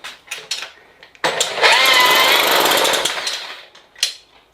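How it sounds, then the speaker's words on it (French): A Solex moped engine, left standing for months in very damp weather, sputters to life with a loud, rapid two-stroke clatter for about two seconds, then dies away, with a few knocks and handling sounds before and after. "Allez, on va essayer de démarrer ce moteur."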